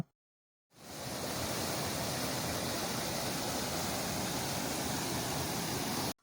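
Waterfall between two tea estates near Valparai, starting after a brief silence and then a steady, dense rushing roar of falling water, even and unbroken, fairly near, with no voices.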